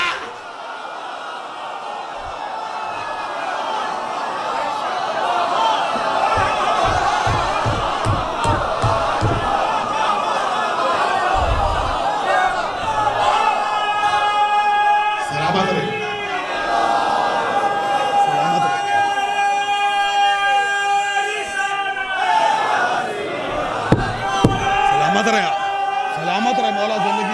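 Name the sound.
audience chanting slogans at a Muharram majlis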